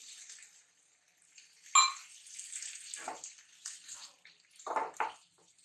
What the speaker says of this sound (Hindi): और आधे कप से भी थोड़ा कम पानी डाल देंगे।